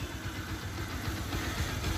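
A Bajaj Pulsar 150cc motorcycle engine idles steadily with a low, even rumble, heard close and fairly quiet, with no voices over it.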